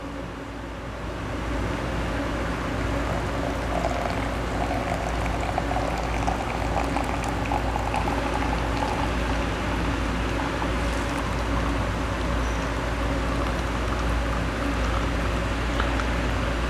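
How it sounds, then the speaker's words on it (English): Hot water is poured steadily from a kettle over ground coffee in an AeroPress brewer, about 250 grams, making a continuous rushing pour that stays even and close for the whole stretch. "Hold your water and start the pour, start your time."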